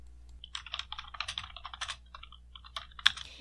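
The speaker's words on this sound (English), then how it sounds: "And yes, it's actually me typing." Quick, uneven typing on a computer keyboard, close up, with clustered key clicks and a short pause before a final sharp keystroke, recorded through a deliberately degraded-sounding microphone.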